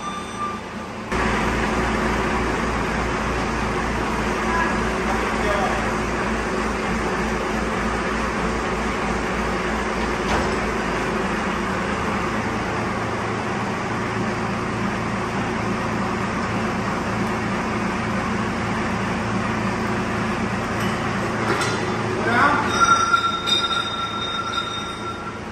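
A 1996 Ford F250 with a 7.3L diesel engine runs steadily with a loud, continuous low rumble close by, while faint higher squeaks and tones appear near the end.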